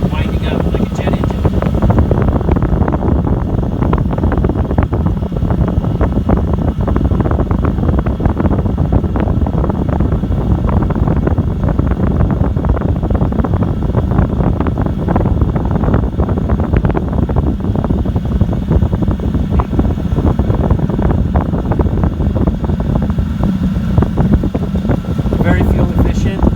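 A Chinese diesel heater runs with its fan and turbine whooshing in a steady, rushing roar like a small jet, loud and constant throughout, mixed with some wind-like noise.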